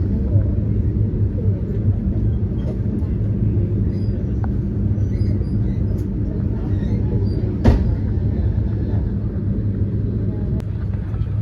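Train pulling slowly into the platform at Ernakulam North railway station, a steady low rumble of wheels and carriage noise with faint clanks and a sharper knock midway, heard from on board.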